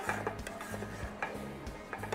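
A spoon stirs cashew halwa in a pan over a low flame, giving soft, close, rhythmic clinks and scrapes against the metal, with no one speaking.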